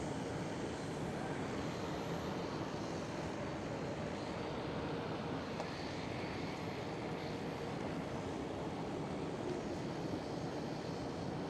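A KLM Boeing 737 airliner at Schiphol airport, its engines a steady broadband roar from some distance, continuous and even throughout, with no voices.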